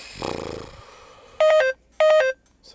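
A phone nearly out of battery gives two identical short electronic alert chimes about half a second apart, loud and close, after a brief murmur at the start.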